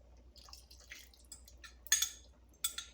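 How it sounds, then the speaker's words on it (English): A metal spoon rinsed under running water at a kitchen sink: faint trickling with light clinks and a couple of sharper metallic taps, quiet and close. "Let me get this spoon and rinse it."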